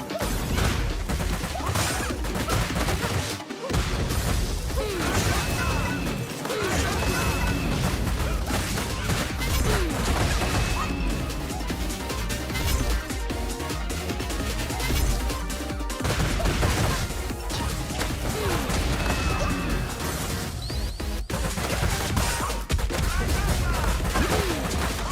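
Video game gunfire, a dense, continuous barrage of shots and crashing impacts mixed with whooshes and game sound effects, loud throughout, with people talking over it.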